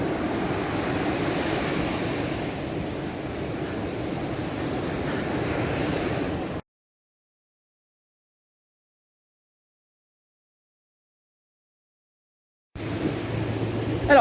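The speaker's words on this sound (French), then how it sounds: "Il y a des petites vagues de ce côté ce matin." Small ocean waves wash continuously at a public beach in Puerto Rico on a calm morning, a soft steady surf wash broken by a stretch of silence before resuming.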